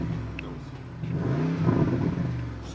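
Stock exhaust of a Porsche Cayenne Turbo revving up and settling back, a low rumbling engine note that swells in the middle of the rev and stays close and fairly loud.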